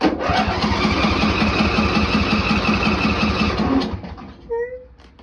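A Briggs & Stratton Intek 21 HP engine with no choke cranks loudly in a steady, rapid chug for about four seconds, then stops, followed by brief faint noises.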